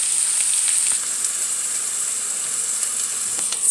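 Onions, garlic, ginger and chopped green peppers sizzle in a pan as gravy ingredients, a steady, close, bright frying hiss with small crackles and no pauses.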